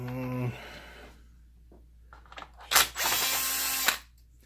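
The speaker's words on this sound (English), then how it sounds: "take a couple of the rear screws out." A power driver on a Mitsubishi EX240 video projector, with a brief harmonic whir at the start and, after a pause, a short burst of loud, broadband buzzing that settles into about a second of steady drilling whine.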